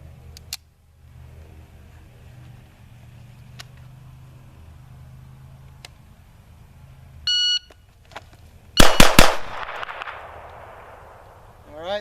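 Pistol drawn from a shoulder holster fires three fast, loud shots close by, right after a shot timer's electronic beep, with echoing ring-out after the shots.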